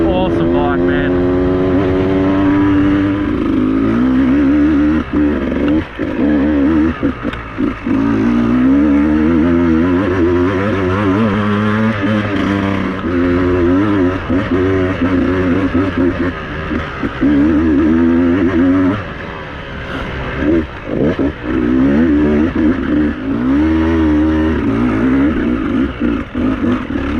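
Beta 200RR two-stroke dirt bike ridden along rough single track over roots, its engine loud and close, revving up and down in constant bursts with brief drops, while a rider's voice talks intermittently over it.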